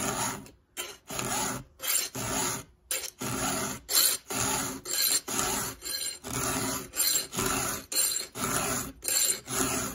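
Small chainsaw chain being sharpened with a hand file: rhythmic rasping strokes, about a dozen close scrapes separated by brief pauses, steady and alone without talk.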